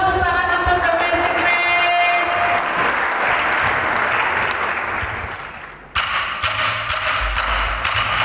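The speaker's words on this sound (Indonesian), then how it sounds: "Sekali lagi dong, tepuk tangan untuk The Amazing" Audience applause and cheering after a 2022 creative dance performance by a youth group, a dense steady wash of clapping that fades slightly, then a sharp renewed burst near the end with thumps underneath.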